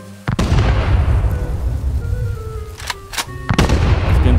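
Explosions in the survival game Rust go off in loud, close booms, one big blast followed by rumbling debris and then a couple more sharp bursts.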